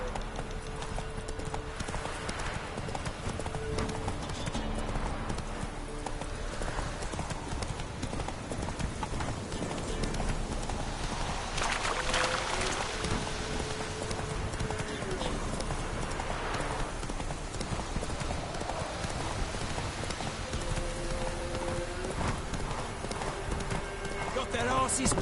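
Roach, a horse in The Witcher, gallops with steady, rapid clip-clopping hooves that continue throughout, mixed with game ambience and occasional speech.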